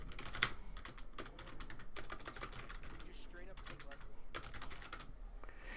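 Rapid clacking on a computer keyboard while a game plays during a Castlevania: Lords of Shadow 2 stream, the irregular bursts of keystrokes close and fairly loud over steady background game sound.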